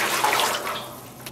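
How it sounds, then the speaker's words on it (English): Water pours steadily into a yarn dye bath as it is filled with several cups for dyeing alpaca yarn, a loud close rushing splash that tapers slightly toward the end, with no voices. "In our dye bath, I'm about to add 8 cups of water."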